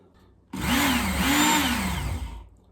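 A belt sharpener whines steadily as a fillet knife is drawn across a very fine 3,000 to 6,000 grit belt, the tone wavering up and down with each pass, loud and close after a quiet start.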